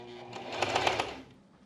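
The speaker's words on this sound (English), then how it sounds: "I am going to try and sew right up against the teeth." A sewing machine stitches along zipper teeth on a mini skirt, a short burst of rapid mechanical needle rattling that rises, peaks and stops within about a second, close and moderately loud with no talk.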